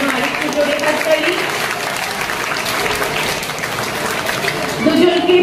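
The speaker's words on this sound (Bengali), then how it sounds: "আরেকটু জোরে হাততালি" Applause from an audience at a school event, steady and dense throughout, with a voice speaking over the clapping.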